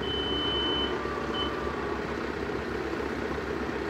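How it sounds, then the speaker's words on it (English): A backup alarm on a John Deere 4066R compact tractor sounds a long, steady high beep and then a short second beep over the low, continuous rumble of the idling engine. "In a way I like that backup alarm,"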